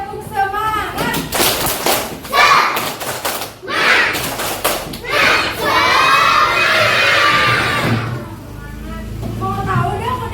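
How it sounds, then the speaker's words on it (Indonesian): Children at a disaster-awareness session in Bandung shout and clap together in a loud group chant, with rhythmic bursts of voices and claps. A sustained crowd roar runs through the middle, and an adult voice speaks near the end. "kita tepuk semangat dulu"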